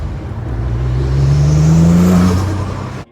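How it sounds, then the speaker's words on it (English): A modified Saab making about 450 horsepower revs hard, its turbocharged engine droning loud and close with a rising tone. The engine builds to a peak, then cuts off abruptly. "It turbo flutters like crazy"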